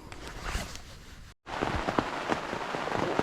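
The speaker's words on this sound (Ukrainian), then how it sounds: "Так п'ята ранку і пішов дощик" Light rain falls at dawn beside a wild fishing pond, an irregular patter of drops striking nearby surfaces, with a brief silent gap before the tapping resumes more densely.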